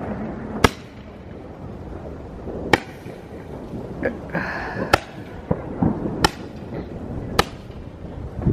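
Single firework shots launched in Katowice in 2020, six sharp, loud cracks spaced a second or two apart, with faint hissing trails and small pops in between.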